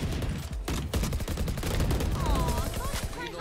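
Dense video game gunfire in a gun game mode rattles continuously with rapid shots and low booms under a busy mix, with some faint voices.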